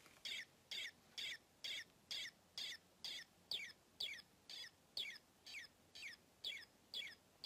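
A vintage peep chirper toy gives a steady run of about fifteen evenly spaced, high, faint chirps, each short and alike, repeating at a quick regular pace.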